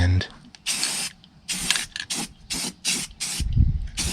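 Spray paint hissing onto the frame of a tri-axle Peterbilt truck in a string of about seven short, close bursts, separated by brief pauses and a few faint clunks.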